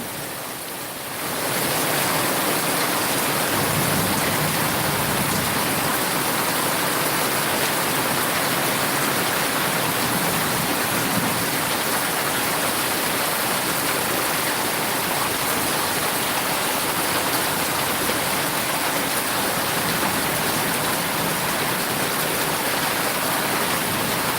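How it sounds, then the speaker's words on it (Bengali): Steady rain pours down in the countryside as a loud, dense, unbroken roar that starts after a brief quieter moment and keeps going at an even level, with no voices. "বৃষ্টি এখনো পড়ছে"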